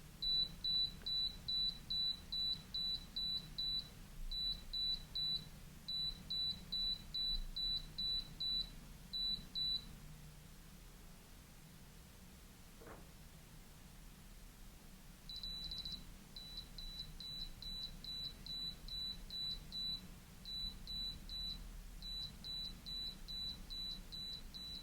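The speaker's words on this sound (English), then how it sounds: "what you're hearing now is the altimeter beeping out the altitude in meters." Mini model rocket altimeter beeping out altitude in meters after a vacuum test under a bell jar, sharp high-pitched beeps in rapid groups with short pauses between, a quiet gap midway, then more beep groups.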